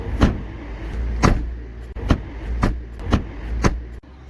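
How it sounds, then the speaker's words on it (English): Car doors shut repeatedly on an older car being rust-proofed, with about seven sharp, solid thuds spaced roughly half a second to a second apart over a steady rumble of nearby traffic. No one speaks. "remember the door shut video, the door shut sound video?"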